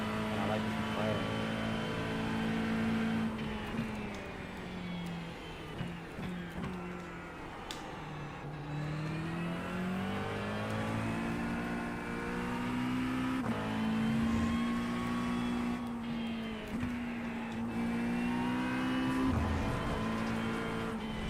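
A McLaren race car in a racing video game on the Virginia International track, its engine droning and rising and falling in pitch through gear changes and corners, with a voice talking over it throughout.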